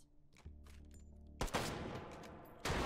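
Video game battle rifle gunfire: two heavy shots ring out over a low droning background, the second following about a second after the first, with no voices.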